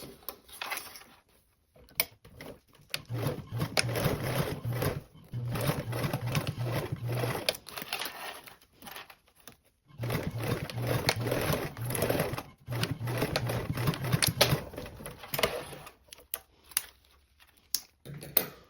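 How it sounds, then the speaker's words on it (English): Sewing machine stitching a 3/8-inch seam allowance across fabric, running in several steady bursts of rapid mechanical chatter separated by short pauses, fairly close and with no voices. "Now we're going to sew across these with a 3/8 seam allowance."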